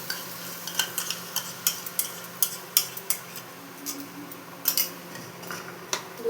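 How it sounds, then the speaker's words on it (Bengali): Spice masala with sour yogurt stirred and frying in a pan over lowered heat, a soft steady sizzle under repeated scraping and tapping of a spoon against the pan, close and fairly quiet, with no talking. "দইটাও ভালো মতো এর সাথে মিলিয়ে নেব"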